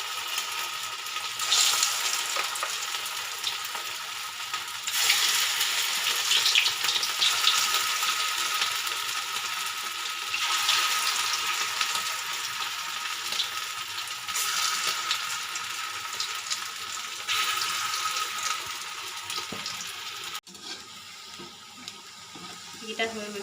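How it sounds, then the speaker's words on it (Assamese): Brahmi leaf pakoras fry in hot oil in a wok, giving a steady, loud sizzle and crackle that runs almost unbroken, then drops to a quieter bubbling near the end. "ইয়াত তেল গৰম হ'ল কেৰাহীত"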